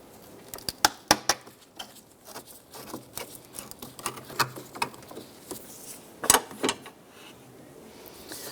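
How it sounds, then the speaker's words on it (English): A flathead screwdriver works the air intake tube clamp on a 2005-2009 Subaru Outback engine, giving a series of sharp metallic clicks and scrapes in uneven bursts, close and fairly quiet, with no talking. "let's go ahead and use a flathead screwdriver and remove or loosen the clamp for the air intake tube"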